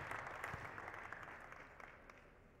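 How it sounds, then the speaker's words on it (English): Faint applause from an audience at a basketball clinic for the players who demonstrated drills, a soft, steady patter of many hands heard from a distance that slowly tapers off. "Let's give these guys a round of applause."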